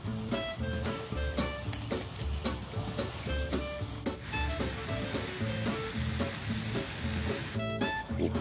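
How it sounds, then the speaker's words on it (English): Bacon frying in a pan at an outdoor pond-side cook-up, a dense steady sizzle with crackles and pops alongside scraping and stirring clatter, close and continuous throughout. "Bacon going in."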